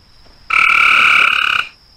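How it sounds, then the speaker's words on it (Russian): One loud, sustained croak from a frog outside the elves' palace in The Hobbit video game, a single continuous call of just over a second that cuts off sharply against an otherwise quiet background. "а еще здесь какие-то ебанутые лягушки"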